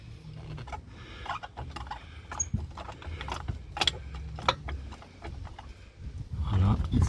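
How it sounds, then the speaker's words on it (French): Rear axle of a VW Golf 4 dropping down during a rear shock absorber and short spring change, heard as scattered metallic clanks and rattles spread over several seconds, with a heavier rumbling thud near the end. "Et là, l'essieu, il va tomber."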